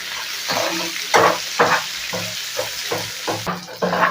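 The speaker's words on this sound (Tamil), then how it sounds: "எடுத்து கட் பண்ணி வச்சுருக்கிற இந்த வெங்காயம் நல்லா ஃப்ரை பண்ணிக்கலாம்" Chopped onions frying in a pan for tomato rice, stirred in a steady rhythm: about eight distinct scraping strokes over a soft background sizzle, close-up, with no speech.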